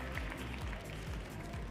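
Steady applause from an audience at the Coupe de France de la Boulangerie award ceremony, a French bakery competition, with dense even clapping at moderate distance across the whole moment.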